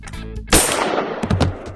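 A single loud, sharp gunshot cracks out close by halfway through, followed by a short decaying tail and a few smaller impacts.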